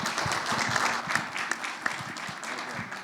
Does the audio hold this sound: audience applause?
yes